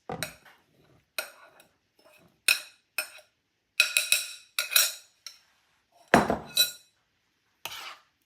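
A spoon stirs dry ingredients into apple fritter batter, making a series of short, spaced clinks and scrapes against the bowl, with brief pauses between strokes.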